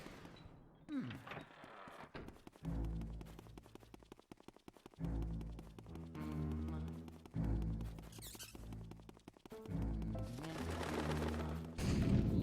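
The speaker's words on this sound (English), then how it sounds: "Nice explosions. I approve." Explosions in the Luigi's Mansion video game come as repeated loud booms and rumbling blasts, with rapid clicking and game effects between them, fairly near and without voices.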